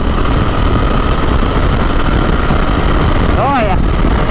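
A BMW F900 GS motorcycle engine drones loud and steady while riding, with wind rumble blended into the hum and a brief pitch sweep near the end.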